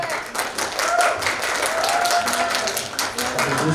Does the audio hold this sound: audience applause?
yes